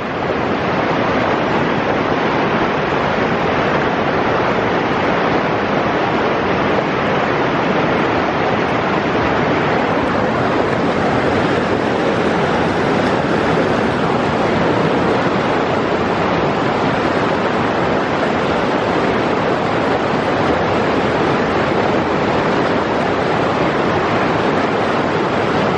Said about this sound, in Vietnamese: Ngoài đây ồn lắm. Nước chảy quá chừng.